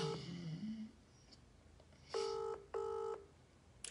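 A phone call to a grandmother, beginning with quick dialing tones, then two evenly spaced ringback tones, each about half a second, clear and moderately loud over a quiet room.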